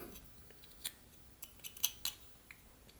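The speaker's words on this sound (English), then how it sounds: "Then I'm going to kind of cut it back a little bit," A knife whittling and cutting butternut wood, a quiet scattered series of small scraping snicks and crisp cuts over a soft background, no talking.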